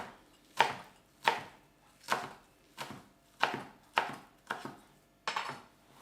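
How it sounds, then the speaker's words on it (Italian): A knife chops zucchini flowers on a cutting board in about nine evenly spaced strokes. Each sharp knock rings briefly on the board, close up, with no talking. "Nel frattempo tagliamo i fiori di zucca."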